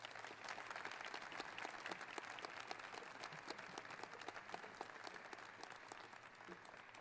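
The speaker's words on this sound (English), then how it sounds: "One more round of applause for the keynote speaker" Sustained audience applause for a keynote speaker at a society induction ceremony, a dense, steady wash of many hands clapping that continues evenly throughout, fairly distant with no voices.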